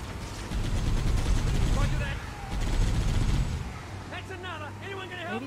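Enemy gunfire in the video game Halo: Combat Evolved, with dense rapid bursts of shots over roughly four seconds, then a quieter stretch with chirping, warbling sci-fi effects.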